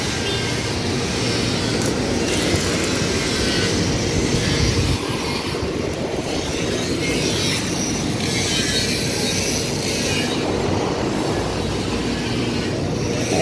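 A Fimer TM500 machine runs steadily throughout, giving off a loud, continuous mechanical rumble and hiss with no pauses and no voices.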